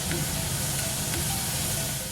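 Fish fillet frying in a pan gives a steady, soft, continuous sizzle and hiss throughout, without any talk.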